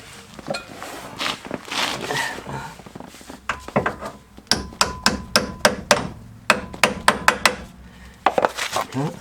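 A series of sharp, ringing hammer blows on metal while removing the driveshafts of a Peugeot 407, struck in a quick uneven rhythm after some shuffling and handling noise, close and loud.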